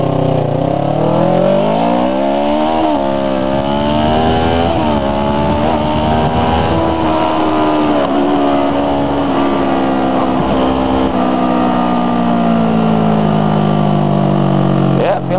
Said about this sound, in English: it's really hard to figure out where vibrations and noises begin and end in a motorcycle